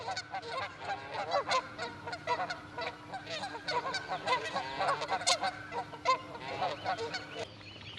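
A flock of resident Canada geese at a ranch pond honks continuously, overlapping calls near and far layered into a busy, loud chorus under a faint steady hum.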